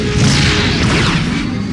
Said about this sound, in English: F-type torpedo hit me, and I got damaged